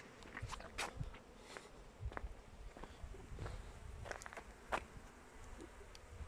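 Honeybees flying at a hive entrance, a faint buzzing hum with scattered soft ticks and taps, quiet and close, continuing throughout without talk.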